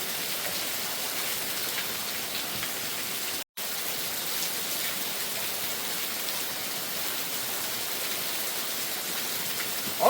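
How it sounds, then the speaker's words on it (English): Heavy rain pours steadily in the outdoors at a gold prospecting spot, a dense, even hiss of drops close by that continues without a break, with one brief dropout partway through. "the rain's really coming down"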